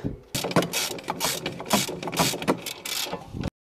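Rapid clicking ratchet strokes in quick bursts, close up, tightening suspension bolts on a Porsche 911 997, several pulls in a row before stopping abruptly.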